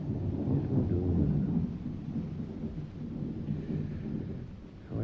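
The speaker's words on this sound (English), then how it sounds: "How I hate the sound of trees in a storm at night." Trees thrash in a nighttime storm: low, rumbling gusts and thunder-like roar swell and ease continuously, moderately loud and heard alone without voices.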